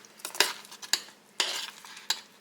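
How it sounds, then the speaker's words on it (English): Sweet potatoes stirred in a cooking pan, a utensil scraping and clacking in a few irregular strokes over a soft sizzle, close and fairly quiet. "So I'm just going to dump some of these in here."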